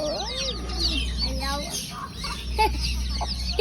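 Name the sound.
pet bird clucking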